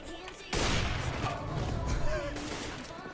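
Gunfire in CS:GO, a sudden loud burst of shots that starts abruptly and rattles on with sharp cracks and a rumbling tail, while a person talks over it.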